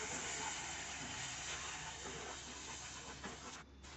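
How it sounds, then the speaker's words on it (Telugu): Ginger garlic paste frying in a pan for a drumstick mutton curry: a steady, close hiss and sizzle that runs throughout and briefly drops out near the end, with no talk. "ఇప్పుడు ఇందులో అల్లం వెల్లుల్లి పేస్ట్ ఒక స్పూన్ యాడ్ చేసుకొని పచ్చివాసన పోయే వరకు ఫ్రై చేసుకోండి"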